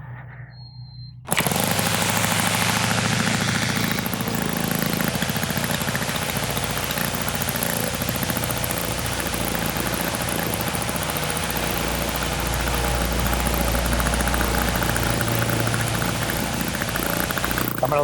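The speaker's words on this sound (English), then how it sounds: "we're ready to fire this thing up. This is an OS" An OS FS-91 Surpass four-stroke model airplane engine, showing some corrosion, starts after a brief quiet lead-in and then runs loud and steady at close range, holding a continuous buzzing drone with a slight shift in pitch toward the end.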